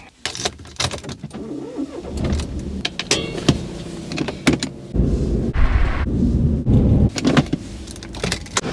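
A Smart rental car heard from inside the cabin, with clicks and thuds, an electric window whirring, then the small engine running and pulling away up close, with no talking.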